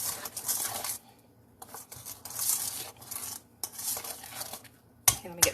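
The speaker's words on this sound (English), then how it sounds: "So we're going to mix all this together" Cornbread batter stirred by hand in a bowl, a utensil scraping and clinking against the sides in several bursts with short pauses, close and fairly quiet, ending with a sharper knock.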